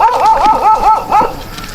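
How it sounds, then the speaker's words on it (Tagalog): A dog gives a quick run of five or six rising, yelping barks close by, then falls quiet, heard outdoors at night near a spot where people are hunting frogs and seafood. "Ayan, tinahol na kami ng aso."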